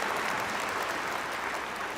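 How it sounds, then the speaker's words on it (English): Dense, steady applause from a large audience at a faith festival, a continuous loud roar of clapping with no pauses. "Let us give another round of applause to our future generations"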